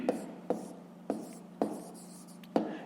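A pen taps and scratches on paper in short strokes, about five distinct marks with pauses between, close and quiet against a steady low hum, while a math exercise is written out.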